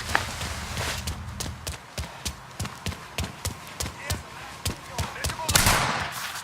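Gunfire in Mafia III comes as a run of roughly a dozen evenly spaced loud shots at close range, with voices heard at the start and end.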